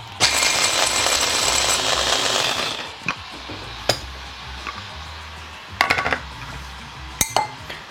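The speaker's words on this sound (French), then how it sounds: "on hache grossièrement" Coarse chopping of whole almonds and dried fruit for a rhubarb almond financier. A sustained grinding rush is followed by sparse sharp knife knocks on a board, some in quick clusters, close and clear.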